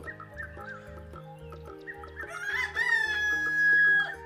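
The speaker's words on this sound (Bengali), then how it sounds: "মুরগিগুলো বলে উঠল" Cartoon chickens cluck in short bursts and a rooster lets out one rising, drawn-out crow near the end, all over light background music.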